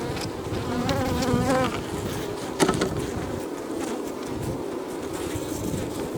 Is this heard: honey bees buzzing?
yes